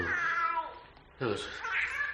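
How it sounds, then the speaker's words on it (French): A house cat meows to be let in behind a door, with two drawn-out, wavering cries separated by a short pause, close and clear. "Votre chat qui voulait rentrer tout bonnement."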